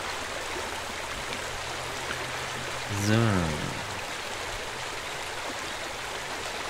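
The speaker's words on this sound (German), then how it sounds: "Genau, füllen wir den Pool." Water gushes into a swimming pool in the video game Pool Cleaning Simulator: a brief swelling pour of about a second rises out of a steady background hiss, alongside a short spoken word.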